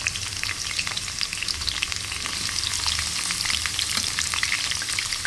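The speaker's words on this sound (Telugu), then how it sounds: "ఇది మనం డీప్ ఫ్రై చేసుకోవాలండి. ఆనియన్స్ అన్నీ కూడా హైలో పెట్టి చేసుకోవాలన్నమాట." Onions deep frying in oil on high heat for a chicken dum biryani, a loud, dense, continuous sizzle with bright crackling pops throughout, close up and with no voices.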